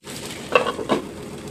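Potato filling stirred and frying in a pan over low-to-medium gas, a steady soft sizzle with two brief scraping clinks of a utensil against the pan, close and alone.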